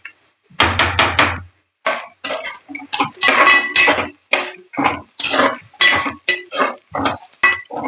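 Flattened rice (poha) dry-roasting in a pan, stirred with quick, loud scraping strokes in a close, uneven rhythm with no talking.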